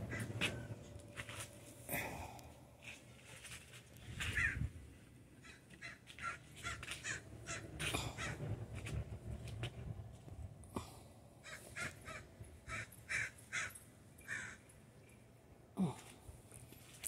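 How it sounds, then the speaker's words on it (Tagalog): Crows caw repeatedly outdoors, harsh calls scattered irregularly over a faint background, some closer and louder than others. "Ang ingay ng ibon."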